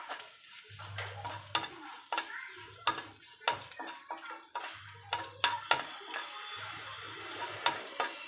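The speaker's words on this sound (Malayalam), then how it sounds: "കടുക് പൊട്ടി, കരിവേപ്പില മൂത്തു, മുളക് മൂത്തു, ഉള്ളി ദേ മൂത്ത് വന്നുകൊണ്ടിരിക്കുന്നു" Mustard seeds, curry leaves, chilli and onion fry in a pan with a steady sizzle, while a spoon scrapes and stirs in sharp repeated clicks and taps, and intermittent low hums come and go.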